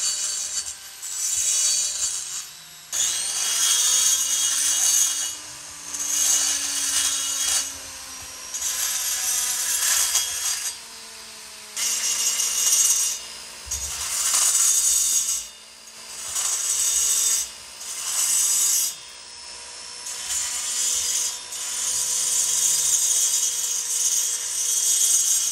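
An electric grinder works the hard-lined cylinder port of an old Stihl MS200T chainsaw during porting, giving close, rasping whines in repeated short passes separated by brief pauses.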